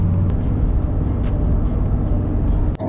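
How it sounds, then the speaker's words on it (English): Cab noise inside a worn-out truck with about 300,000 on it while driving, a loud, constant low rumble and drone with a faint rhythmic ticking over it, no one speaking. "I got the mic in since there's so much cab noise in here."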